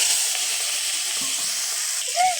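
Hot mustard oil in a kadai sizzling and hissing steadily as fish goes in to fry, a continuous bright crackle close up with faint utensil touches and no voices.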